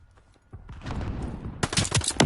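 Gunfire in the video game Call of Duty Vanguard crackles in rapid bursts, building from scattered shots to a dense volley at the end.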